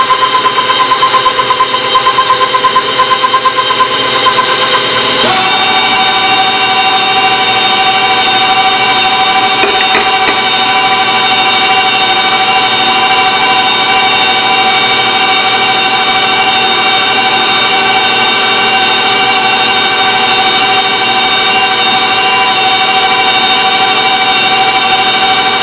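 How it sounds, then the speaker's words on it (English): An electric stand mixer whirs steadily while flour is added a little at a time to sugar cookie dough, a continuous motor drone that shifts to a slightly different pitch partway through and runs loud without speech. "now I'll add my flour to my mixer. I'm putting in a little at a time."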